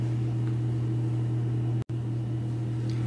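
A microwave oven heating a bowl of oats drones with a steady low electrical hum throughout, with one sudden brief cutout near the middle before the hum resumes unchanged.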